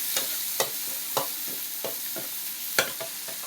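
Garlic, onion, tomato and chili sizzle in a pan while being stirred, with repeated scraping strokes over a steady frying hiss and no voices.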